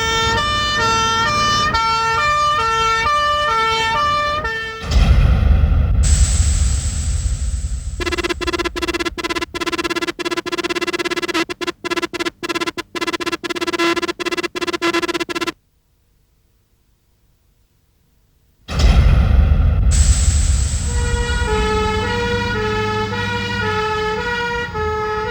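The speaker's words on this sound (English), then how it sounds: "Every time the brigade is called out, the chances are you'll see one of the many makes of pump engine racing to the scene." A fire brigade pump engine races along with its siren wailing loud and close, cycling through rising and falling tones, switching to rapid yelp bursts midway, dropping out briefly, then resuming over the roar of the truck's motor.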